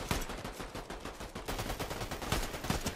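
Rapid gunfire in Fortnite as shots are aimed at the heads of two bots: loud, dense bursts of repeated shots firing without pause, alone with no talk.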